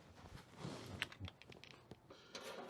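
Someone taps away at a keyboard at a tailgate, with quick, uneven clicks up close over a quiet, faint background.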